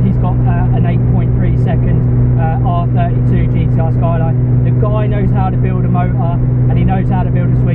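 A 1000+ bhp Toyota Supra on a hard drive gives a steady, loud engine drone from inside the car, with someone talking continuously over it.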